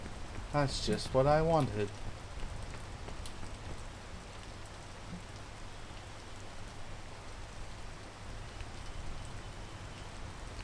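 Steady rain in the climbing video game Peak, a soft continuous hiss of falling drops that runs throughout, with someone speaking briefly over it at the start.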